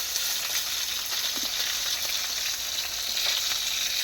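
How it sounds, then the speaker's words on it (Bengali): Fish fries in a pan in a home kitchen, a dense continuous sizzle of hot oil with faint crackles and an occasional stir, close and steady with no talking. "মাত্র মাছ ভাজা হয়ে গেল"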